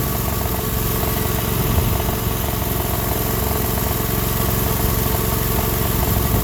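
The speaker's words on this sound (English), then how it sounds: "Let it run for a few minutes." A Sears Suburban loader lawn tractor engine, freshly back from a fuel system repair, idles steadily and continuously up close with a low, even rumble that never changes pace.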